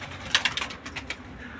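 Taklaci tumbler pigeons give a few soft, close coos in a short cluster, followed by a quieter stretch of low background rustle.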